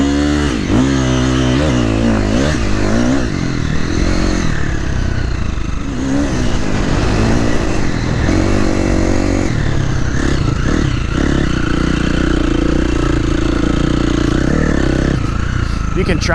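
A KTM 350 XCF dirt bike engine revs up and down repeatedly, loud and close, with shifting pitch and some rattling clatter underneath.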